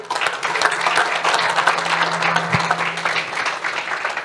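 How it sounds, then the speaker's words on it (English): A large audience at a school sport award ceremony gives a sustained round of applause, a steady dense wash of many hands clapping at close range, with a faint low hum running underneath. "So a big round of applause for Daniel"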